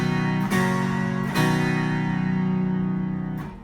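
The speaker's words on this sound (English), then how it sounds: "The last pedal in the middle here is the coupler, which will couple the 2 keyboards together." A revival harpsichord plays with both keyboards coupled by a pedal, giving a full, rich bass. A few struck low notes ring on with a dense, jangling sustain, close and solo, with no voice.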